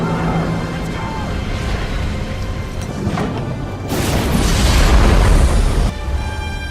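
A World War II ship carrying soldiers and prisoners explodes at sea: a steady rumbling backdrop breaks into a loud, broad blast that roars for about two seconds before easing back.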